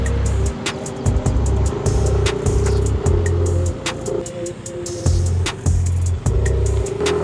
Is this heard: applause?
no